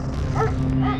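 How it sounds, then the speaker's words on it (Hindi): A dog barks and yelps in a dramatized story scene, giving two short, whining calls over a steady background hum. "उसके उठने के बाद वहां दूर से एक कुत्ता उस पर भौंक रहा था।"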